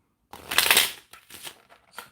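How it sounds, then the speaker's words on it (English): A deck of cards being shuffled, one loud riffle burst followed by a couple of shorter, softer riffles, close and alone with no talking. "I'm going to shuffle 3 times."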